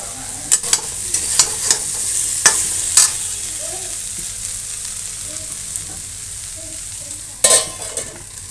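Cauliflower sabzi cooks in a pan with a low background sizzle, punctuated by sharp clinks and scrapes of a utensil against the metal, clustered early and again near the end.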